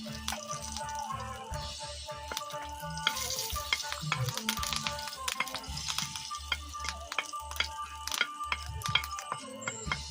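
Curry leaves crackle and sizzle as they hit hot oil for a Kerala village-style stew, a busy spattering fry with sharp pops and crackles, close and fairly quiet, with occasional clinks of a utensil.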